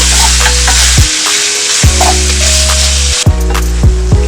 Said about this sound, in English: keep stirring. don't want our minced beef to be burnt.